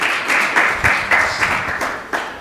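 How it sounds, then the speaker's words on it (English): A small audience claps in a loose, steady rhythm after a Sunday Feast class given by Ananda Vrindavan das, a short close burst of individual hand claps with no talking. "A big round of applause for Ananda Vrindavan Prabhu."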